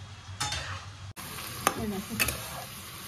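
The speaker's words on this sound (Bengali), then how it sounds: "নুন হলুদ দিয়ে এটাকে ভালো করে একটু ভাজছি" Vegetables seasoned with salt and turmeric fry in a pan while a spoon stirs them, giving a soft sizzle broken by a few sharp scraping strokes, close and fairly quiet.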